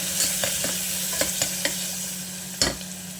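Spoon scraping and stirring through a sizzling pan of tomato masala with turmeric and garam masala, several close clinks and scrapes over a steady fry, one louder knock near the end.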